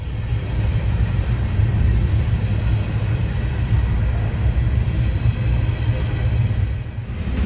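A long freight train of grain hopper cars rolls past, a dense, steady low rumble holding at even loudness throughout with no voices.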